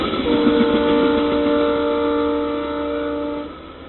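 A southbound Union Pacific local freight train led by an SD40N with an ES44AC trailing passes nearby, its sustained multi-tone horn chord sounding loudly over rumbling wheels, then tapering off.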